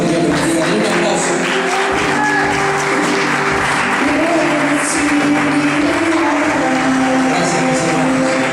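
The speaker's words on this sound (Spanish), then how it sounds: "Un aplauso." A church congregation breaks into steady, loud applause, a dense continuous wash of many hands clapping that fills the room throughout.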